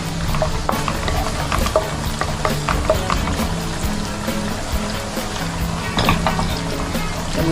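Garlic frying in a pan for butter chicken, a steady loud sizzle with small crackles and pops, plus occasional scraping stirs, close and continuous with no talk.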